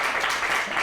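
Brief burst of audience clapping at a community environmental justice gathering, dense and steady for under a second.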